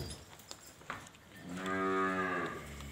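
A cow lets out a single long, loud moo at a livestock sale of freshly calved cows and buffaloes, rising after a second of faint background noise and holding steady close by.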